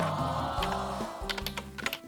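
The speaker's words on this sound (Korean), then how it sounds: "뭐 대답을 안 하고 키보드를 쳐" Fingers typing on a computer keyboard in a room, a quick irregular run of clicking keystrokes that grows busier toward the end over a hum of background noise.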